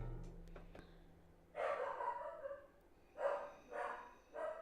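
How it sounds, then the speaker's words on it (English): A dog barks off in the room with four or five sharp barks, a single one followed by a cluster of three spaced about half a second apart, clear against a quiet background with no talking. "I don't know what he's barking at."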